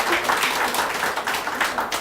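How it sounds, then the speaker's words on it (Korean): Warm applause from a church congregation after a choir, many hands clapping together in a continuous, fairly loud burst with no talking. "우리 따뜻한 사랑의 박수로 한번 이분들을 격려해 주시고"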